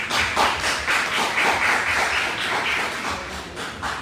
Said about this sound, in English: give a round of applause for our debaters?